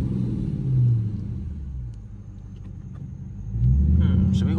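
A Dodge Charger RT in track mode gives a low, steady engine rumble from inside the car while driving, swelling slightly near the start and again toward the end, with a voice talking over it.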